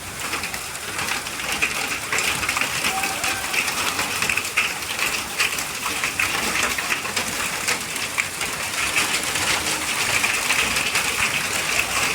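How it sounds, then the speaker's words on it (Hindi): Hailstones fall hard and steady in a heavy hailstorm, a dense, continuous outdoor patter and clatter that goes on without a break, with a faint bird call mixed in. "क्या बारिश हो रही है यार, मतलब पूरा पत्थर हो रहा है, बारिश नहीं होती, पत्थर गिर रहे हैं देखो"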